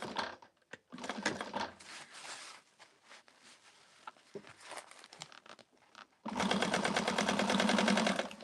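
Home sewing machine top stitching a quilted bag gusset, heard as bursts of rapid mechanical stitching with pauses and fabric handling between, ending in a loud, steady close run.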